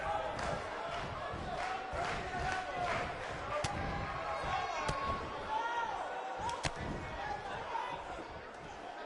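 A wrestling video game on PS4 plays a large arena crowd in St. Louis, a continuous roar of cheers and chatter with sharp slams and thuds. A commentator talks over it throughout.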